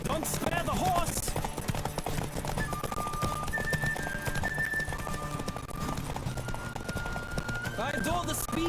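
Rapid, rhythmic hoofbeats from a galloping horse in The Witcher 3: Wild Hunt run close and continuous, with a few brief voice-like sounds from the game near the start and end.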